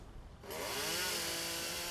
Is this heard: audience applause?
no